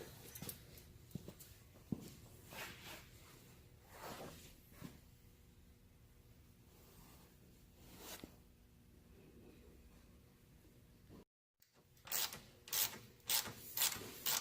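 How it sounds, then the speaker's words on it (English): Bolts on a heater bracket are tightened during a Prowler Pro heater installation, giving quiet, intermittent ratcheting clicks and rubbing metal scrapes close by, with a brief silence near the end. "I'm just finishing tightening up the bolts now."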